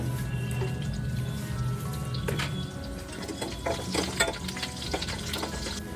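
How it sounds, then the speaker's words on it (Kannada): Cumin, mustard seeds, garlic and curry leaves crackle in four spoons of hot oil in a pan, a close sizzle with scattered sharp pops and spatters building through the middle, no talking. "ಒಲೆ ಮೇಲೆ ಒಂದು ಪ್ಯಾನ್ ಇಟ್ಕೊಂಡು ಅದಕ್ಕೆ ಒಂದು ನಾಲ್ಕು ಸ್ಪೂನ್ ಆಯಿಲ್ನ ಹಾಕ್ಕೊಂಡು ಅದಾದಮೇಲೆ ಒಗ್ಗರಣೆಗೆ ಜೀರಿಗೆ ಸಾಸಿವೆ ಬೆಳ್ಳುಳ್ಳಿ ಕರಿಬೇವು ಸೊಪ್ಪು"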